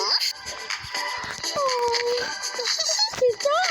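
A dog whimpers in a farm life video game, giving a few high, wavering whines over busy game sounds and music.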